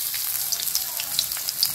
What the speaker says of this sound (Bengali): পেঁয়াজটা ভাজা হয়েছে